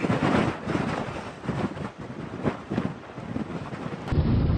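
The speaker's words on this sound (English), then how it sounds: "Wind speeds have been increasing." Strong gusty wind in a dust storm roars and buffets the microphone in heavy, rumbling surges, loud and close, with no voices.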